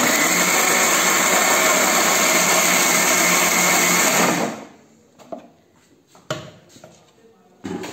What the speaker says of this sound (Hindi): सारा समान मिक्सी के जार च पा के इनू एक दो गेड़ा दवा के